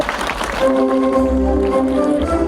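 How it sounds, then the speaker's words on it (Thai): Crowd applause at the opening ceremony of a fruit market in Thailand starts loud, then continues beneath a sustained musical tone and low rumble. "ขอเสียงปรบมือดัง"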